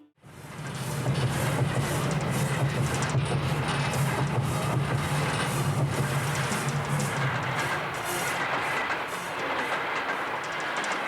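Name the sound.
running train in film soundtrack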